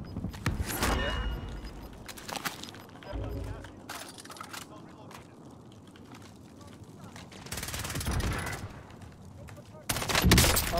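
Loud bursts of automatic gunfire from the Call of Duty Warzone video game crackle in several rapid volleys with quieter stretches between, while a player talks over the action.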